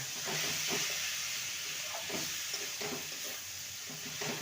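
Fried potato, cauliflower and peas are stirred into oil-separated masala in a pan over a low gas flame: a soft continuous sizzle and hiss with faint, irregular scraping strokes, fairly quiet and without speech.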